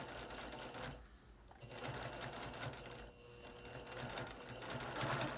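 A sewing machine stitches a homemade fabric face cover with a filter pocket, its motor whirring in steady bursts that pause briefly between runs, close and fairly quiet.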